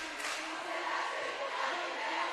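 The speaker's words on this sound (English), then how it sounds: "We still have a nice loud crowd." Crowd at a roller derby match cheering and yelling in a broad, steady roar, fairly distant and continuous without clear breaks.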